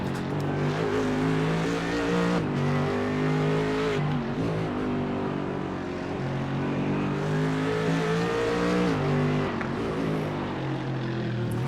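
A race car engine drones loud and steady during an IMSA endurance race at Belle Isle in iRacing, with shifting pitch as it revs through gears, and other cars audible nearby.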